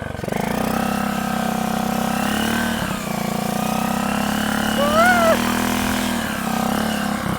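Small motorcycle engine fitted to a BMX bike drones steadily and loudly up close as it circles, with brief dips in pitch around each lap and a continuous buzzing note throughout.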